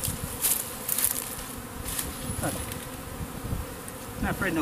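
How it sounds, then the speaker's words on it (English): A swarm of honey bees buzzes in a dense, continuous drone outdoors in April, with individual bees passing close and loud at intervals. "Not afraid of no bees, are you?"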